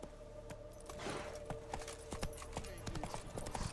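A horse's hooves clip-clop in The Witcher 3: Wild Hunt, a short run of sharp, uneven hoofbeats mixed with game ambience and a faint voice underneath.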